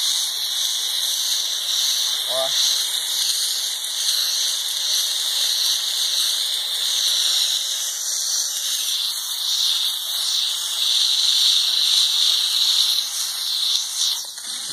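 A Wap Intech steam cleaning machine gives off a continuous, loud hiss of steam that holds steady for the whole stretch, with a brief squeal near the start.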